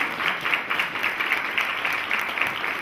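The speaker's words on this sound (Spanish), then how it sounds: "Lo recibimos con un fuerte aplauso" Steady applause from an audience, many hands clapping together in a dense, continuous wash of sound with no voices standing out.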